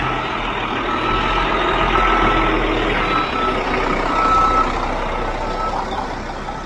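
A concrete mixer truck backs around a tight building corner on a street, its reversing alarm beeping over a loud, steady engine rumble that fills the whole stretch without pause.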